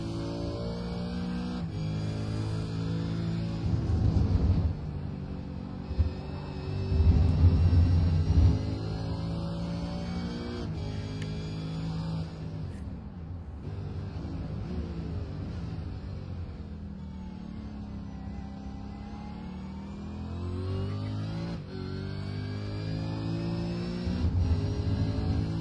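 A V8 race car heard onboard during a lap of the East Coast V8 series, the engine rising through the gears in repeated sweeping climbs, dropping on downshifts and surging again, loud and close with no talk.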